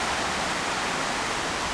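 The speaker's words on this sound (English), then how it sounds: "Is the river starting to flood right next to it." Flooding stretch of the Right Fork Holly River in Webster County, West Virginia, rushing past old holly trees, a loud, unbroken broadband roar of fast water, no talking.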